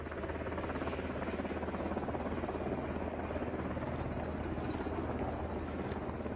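A military helicopter arrives at the Camp Bastion hospital, its rotor and engine a loud, steady throbbing drone that holds unchanged from start to finish.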